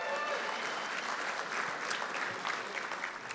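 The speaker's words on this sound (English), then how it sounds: "A round of applause for that." A crowd applauding steadily, a dense wash of many hands clapping at moderate volume with no voices on top.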